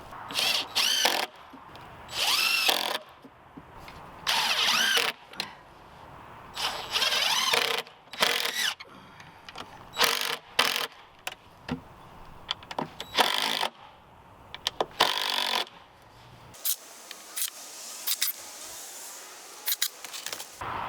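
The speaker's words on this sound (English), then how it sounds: "I'm going to attach the roof sections with these mending plates and some screws." A power drill drives screws through metal mending plates to join the roof sections of a hugelkultur greenhouse. Short, loud, whining bursts repeat with pauses between them, and no one speaks.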